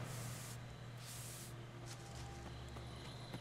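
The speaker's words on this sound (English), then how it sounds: "Wasting my spray." Spray can hissing in the Friday the 13th video game, two bright bursts close together near the start over a steady low game hum, with fainter later noise.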